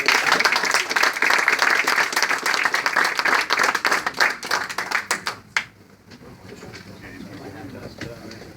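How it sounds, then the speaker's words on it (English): A big round of applause from an audience honoring a group, dense clapping for about five seconds before it thins into scattered claps and room murmur. "one more big round of applause for these folks"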